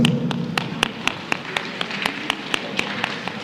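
Two fingers on the palm from many audience members at a Janmashtami gathering give a denser patter of crisp taps, irregular and steady, like rain beginning to fall, over faint background hum.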